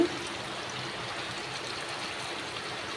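Water runs steadily into a bowl being rinsed during the cooking of a katla fish curry, a soft, even trickle with one small knock at the very start and no talking.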